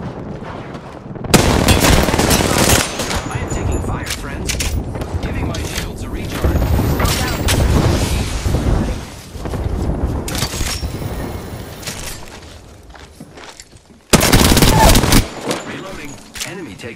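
Rapid automatic gunfire rattles in loud bursts during a Pathfinder match in a shooter game, with dense overlapping shots, booms and mechanical clatter while a voice talks over the action.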